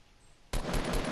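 Sudden burst of automatic gunfire in the battle royale video game Fortnite, a loud, dense volley of rapid shots starting abruptly after a quiet moment and continuing steadily.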